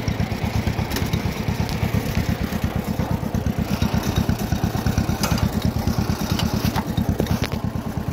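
A 1939 John Deere Model L tractor engine chugs steadily while driving, a close, loud, rapid putt-putting beat with faint clanks over the top, no voices.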